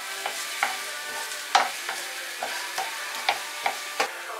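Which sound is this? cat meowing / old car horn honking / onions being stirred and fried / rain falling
onions being stirred and fried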